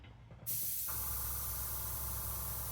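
An airbrush with a 0.3 needle and wide-open valve sprays MRP Aqua paint at about 20 psi: after a quiet start a sudden steady hiss comes in, close and continuous, with a low compressor hum beneath.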